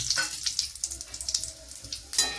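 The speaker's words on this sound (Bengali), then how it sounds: "এবার এই তেলের মধ্যেই এখানটাতে আমি 2টো তেজপাতা দিয়ে দিলাম, 4টে দারচিনির ডান্টি দিয়ে দিলাম, আর 3টে এলাচ দিয়ে দিলাম।" Bay leaves, cinnamon sticks and cardamom pods spit and sizzle in hot oil for a Bengali aar fish curry, a steady close frying crackle with small pops throughout.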